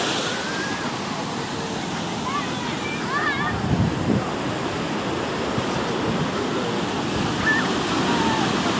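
Surf breaking on Boucan Canot beach on Réunion, heard from the road as a steady broadband wash of waves with wind buffeting the microphone and faint distant chatter.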